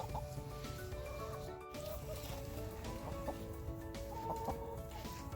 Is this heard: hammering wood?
no